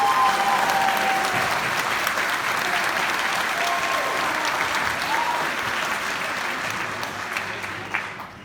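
Applause from the audience at a chemistry and biochemistry department graduation, sustained even clapping over about eight seconds that gradually tapers off, with a few faint voices and a whistle-like tone mixed in.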